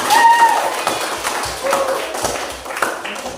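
A classroom group applauds after a student presentation during Indonesian teacher-training practice, giving a dense, steady patter of clapping hands for several seconds that eases slightly midway.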